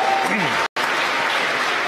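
A large crowd applauds and cheers continuously after a SpaceX Dragon spacecraft deploys during the CRS-12 launch, a steady broadband roar with a brief dropout partway through and faint talk underneath.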